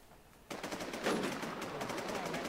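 Automatic gunfire in the online shooter Infestation, a rapid stream of close shots starting suddenly after a quiet moment and continuing steadily with no pauses.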